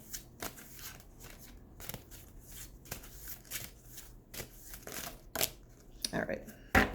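Tarot cards handled and shuffled by hand, a series of quick riffling flicks and slaps spaced irregularly, close and fairly crisp, with a louder flurry toward the end.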